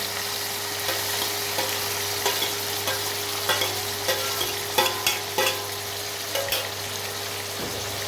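Cumin, chopped onion, ginger, green chilli and garlic crackle in hot oil for an Amritsari nutri dish, a continuous close sizzle with light spoon scrapes and taps scattered through, over a faint steady hum, with no talking.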